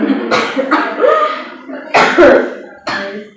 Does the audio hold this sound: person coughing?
yes